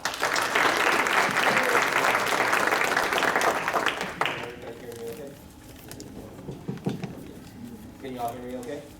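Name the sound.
audience applause welcoming a speaker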